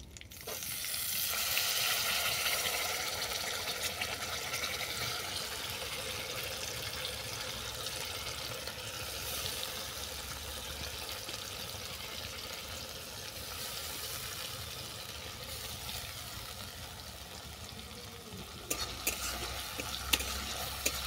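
A ground spice paste hits the pan for a hilsa fish curry with gandal leaves and fries with a steady wet sizzle while being stirred and scraped, with a few clanks near the end.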